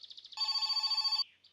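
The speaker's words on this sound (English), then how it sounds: "Oh, the phone is ringing, so we can activate this quest." Telephone in the My Summer Car video game rings once, with a short warbling trill, then a steady electronic ring lasting about a second, fairly faint.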